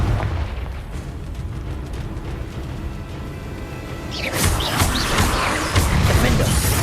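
Confringo, a fiery blast spell in Hogwarts Legacy: a steady rumbling game ambience gives way to a loud, sharp explosive burst with crackling debris that keeps roaring to the end.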